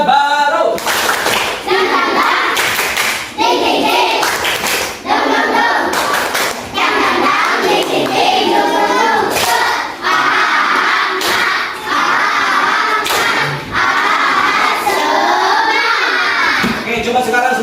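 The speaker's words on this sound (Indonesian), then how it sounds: "Tepuk semangat" A group of children, likely a school class, performs a rhythmic spirit clapping chant (tepuk semangat), with loud patterned bursts of hand claps and shouted voices throughout.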